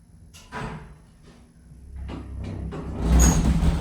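A vintage Otis traction elevator door at a university hall slides along its track, needing grease, with rumbling rolls and scrapes building to a louder thud near the end, close by.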